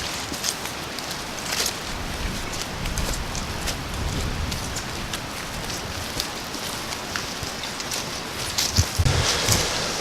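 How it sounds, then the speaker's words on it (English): Strong wind rushes outdoors during rifle-season hunting from a stand, a constant broadband hiss and rustle with a few gusty swells, moderately loud and steady with no voices. "Whew, it is windy."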